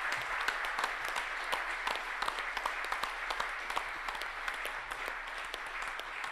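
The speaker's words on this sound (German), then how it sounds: "Am besten mal einen ganz, ganz großen Applaus für alle, die heute aufs Gelände waren." Audience applause for the guests and speakers at a robotics and AI tech salon in Hannover, steady dense clapping at moderate distance holding throughout, fairly quiet with no voices over it.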